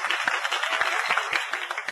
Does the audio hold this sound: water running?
no